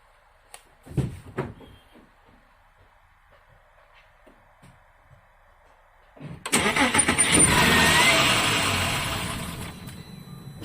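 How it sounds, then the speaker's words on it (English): Audi Q7 that cranks only when cold and then stalls: a few faint clicks and knocks, then the starter cranks briefly and the engine catches, settling into a loud steady run that fades slightly. "I'm gonna start the car up again."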